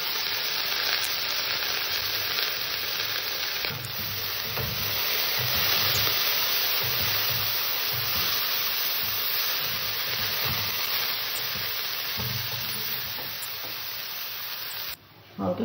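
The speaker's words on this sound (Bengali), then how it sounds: "আমি একটু গাজর কুচি ফ্রাই করে নেব" Chopped carrot sizzles steadily in hot white oil in a wok, a continuous frying hiss with faint stirring scrapes underneath, close and even.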